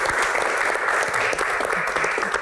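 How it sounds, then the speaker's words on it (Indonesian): An audience in a talk-show studio applauds to welcome a guest, a steady, full roar of many hands clapping that stays loud and even throughout. "Tepuk tangan untuk Ibu Ria Sungkar"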